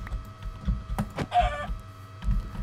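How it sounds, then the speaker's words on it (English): A Minecraft chicken clucks in the game, a short burst of nasal clucks amid low rumbling game background and scattered clicks. "Oh, a chicken. Come here."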